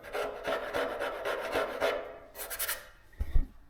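Rough, repetitive abrasive strokes scrape across Bondo body filler on the panels of a custom speedster, a steady rasping rhythm followed by a couple of low knocks near the end.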